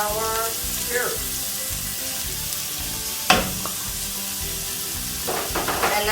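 Chopped onions, celery and carrots sizzle in hot oil in a pan while being stirred for a Bolognese sauce, giving a steady close frying hiss with a few clatters from the utensil.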